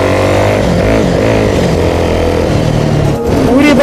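A motorcycle is ridden and leaned through turns, its engine droning loud and close with shifting revs, the pitch rising and falling over steady wind noise.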